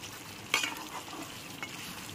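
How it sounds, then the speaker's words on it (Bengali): Fried spice masala being stirred into chicken korma in a pan, a soft scrape near the start and another later over a faint, steady sizzle. "ভাজা মশলাটাও ভালো করে আরেকবার মিশিয়ে নেব"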